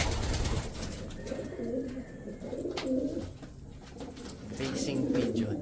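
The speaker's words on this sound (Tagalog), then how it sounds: "Facing pigeon." Pigeons at a breeder's loft coo softly and repeatedly in low, throaty bursts, with faint chirps and background noise around them.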